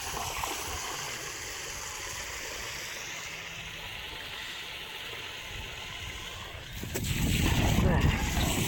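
Water pours into a filling container with a steady rushing hiss that swells louder and fuller toward the end.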